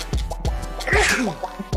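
A single sneeze bursts out near the middle, sharp and breathy, surrounded by a few short vocal sounds and light scratching.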